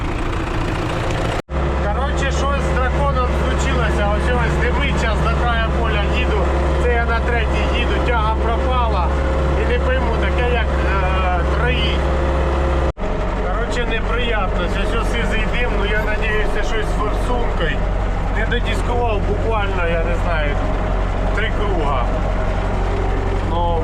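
A diesel engine in farm machinery runs rough with one cylinder failing and a stuck injector, a loud close continuous throbbing chug under someone talking.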